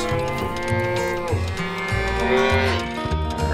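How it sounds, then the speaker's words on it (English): Country cows on a farm give drawn-out, low moos, close and fairly loud, one long call sliding into the next with a steady pulsing undertone. "The country cows."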